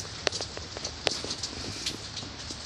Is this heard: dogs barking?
no